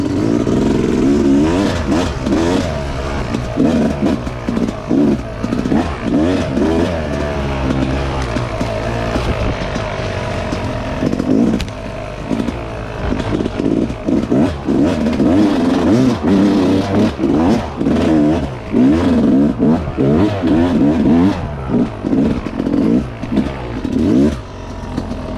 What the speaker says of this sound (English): I can ride a dirt bike.